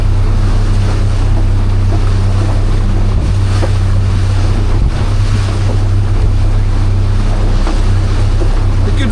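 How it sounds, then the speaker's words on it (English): Strong westerly wind and rolling waves at sea, recorded from a beach fishing boat launched in a half gale, a loud constant roar of wind buffeting the microphone over sloshing water and a low engine hum. "There's a good safe westerly breeze."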